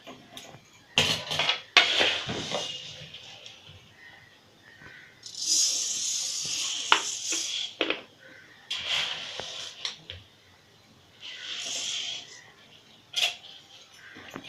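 Rice dry-roasting in a pan for chakli bhaajni, stirred with a utensil: intermittent scraping, rustling grains and sharp metal clinks in irregular bursts, close and moderately quiet.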